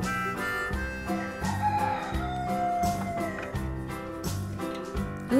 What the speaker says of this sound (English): Here's a black and white rooster.